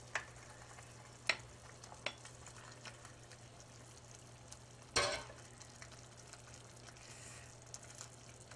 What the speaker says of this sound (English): My marinara has come to a boil, so I'm going to slide all those meatballs in there.